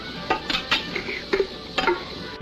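Sharp clinks and clatters of dishes and pots, several separate knocks spread across a couple of seconds, fairly close with a quiet background.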